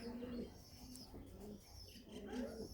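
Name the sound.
pigeons cooing and flying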